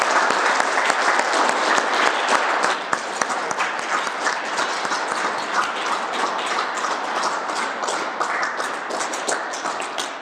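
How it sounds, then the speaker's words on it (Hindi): Group of hostel students clapping together after a morning yoga and pranayama session, steady dense applause throughout, fairly close and continuous. "चलो आज के लिए एक बार तालियां हो जाए सबको।"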